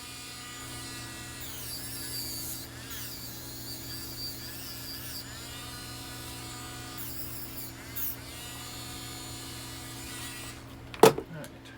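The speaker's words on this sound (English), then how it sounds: "This is just a sanding wheel." A sanding wheel grinds against a silver-plated spoon bracelet in several short whining bursts over a steady motor hum, ending in a sharp clatter.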